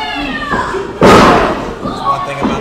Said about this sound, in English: Slamming him into the ring post.